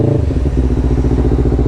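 A Honda CBR 250 RR sport motorcycle engine, in sport plus mode, pulls away at close range, its steady harmonic drone rising in pitch with a gritty, rattling edge and no voices on top.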